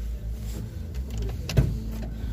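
Electric power windows in a car with a 1.8 petrol/gas engine, a low motor hum running under a brief mechanical clunk as the glass moves, close and fairly quiet.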